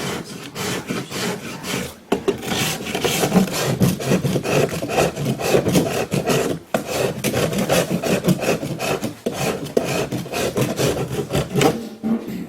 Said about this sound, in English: But with an open rasp, you're going to have problems with it, with plaster.